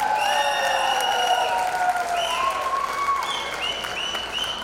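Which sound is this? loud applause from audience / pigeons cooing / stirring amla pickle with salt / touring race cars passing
loud applause from audience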